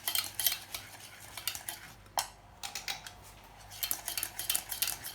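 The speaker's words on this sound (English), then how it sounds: "I'll just lightly pull away from the fire and keep on stirring" A milk and flour roux for Hokkaido milk bread stirred quickly in a pan just off the heat, with rapid close scraping strokes in bursts and a short pause midway.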